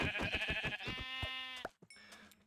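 Sheep in a survival game bleat in a quick run of wavering calls, close and clear, followed by a short pause and a fainter bleat.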